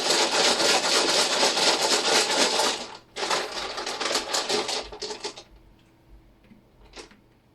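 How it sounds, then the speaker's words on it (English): Word dice clatter as they are set down one after another onto small piles, a dense, continuous wooden rattling for about three seconds, then another run of clicks that thins out, with one faint tap near the end. "on top of every of these little piles, I'm gonna put a dice"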